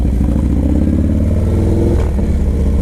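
A Harley-Davidson Dyna Low Rider S (FXDLS) motorcycle engine runs close and loud, with a deep, lumpy idle rumble and a brief rise in revs near the end.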